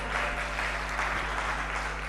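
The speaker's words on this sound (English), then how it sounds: "Please give yourselves a round of applause." Audience applause at an alumni network gathering for emerging public leaders, a brief steady patter of clapping over a low hum, fairly quiet.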